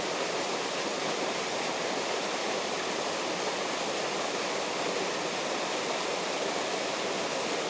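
A waterfall pours steadily in a landscape setting, producing a constant, even broadband rush with no pauses, moderately loud and alone with no voices.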